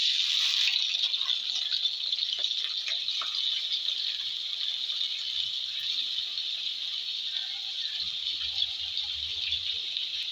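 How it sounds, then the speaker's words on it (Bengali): Chopped onion dropped into hot oil in a pan, sizzling as a steady loud hiss that carries on without a break, with faint rattles of stirring underneath and no voices. "এইবার আগে থেকে কুচিয়ে রাখা পেঁয়াজটা দিয়ে দেবো।"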